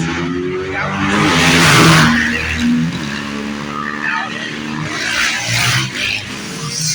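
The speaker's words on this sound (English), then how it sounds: "I guess we're having a motorcycle show in here, unexpectedly." Motorcycles rev and pass near a walkway by the Miami River in Miami. The engine roar swells loudly, fades briefly, then rises again as more bikes go by.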